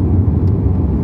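A SEAT Tarraco seven-seater SUV's petrol engine hums with a low, steady throaty drone from inside the cabin, continuous and even with no talk over it.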